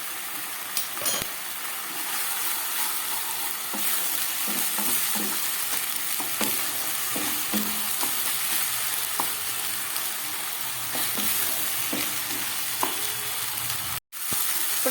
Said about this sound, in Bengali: প্রায় 2 মিনিটের মতো আমি মশলাটাকে খুব ভালো করে কষিয়ে নিয়েছি।